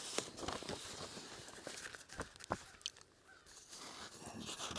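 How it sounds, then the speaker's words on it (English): A crow-like bird calling outdoors in rural woods, with a few harsh caws at a distance over rustling, shuffling steps and steady background noise. "Hear that bird?"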